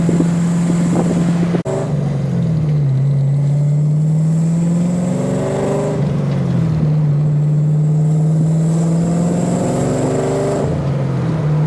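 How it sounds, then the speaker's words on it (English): A Hyundai Genesis Coupe engine with an exhaust leak drones steadily and loud, its pitch rising and falling through several revs and shifts while driving on the street, with no talk. "Sounds good for having an exhaust leak though."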